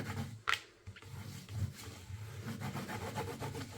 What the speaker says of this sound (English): coming in with a baby wipe, and I want to clean my embossing folder